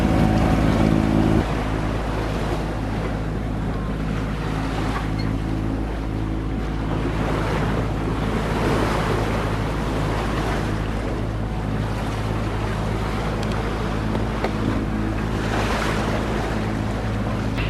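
Sailboat motor sailing across exposed open sea toward Eleuthera, a steady low engine drone under continuous wind buffeting and rushing waves, loud and constant with surges of spray and gusts.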